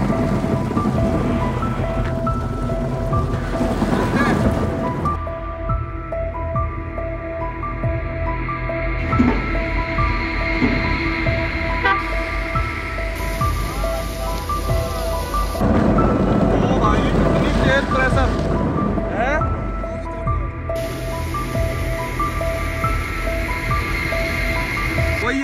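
Waterfall water pours heavily onto a Mahindra Scorpio N driven behind the falls near Rampur Bushahr, Shimla, a loud continuous roaring rush drumming on the car, with surges and brief quieter spells and someone talking over it.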